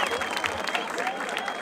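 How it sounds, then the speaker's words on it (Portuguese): Crowd at a rap battle event in Barueri, São Paulo, clapping steadily in a dense, continuous wash of applause with voices mixed in. "palmas aí, palmas aí pela live"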